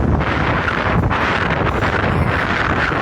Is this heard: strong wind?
yes